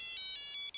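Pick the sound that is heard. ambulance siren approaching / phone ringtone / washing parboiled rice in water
phone ringtone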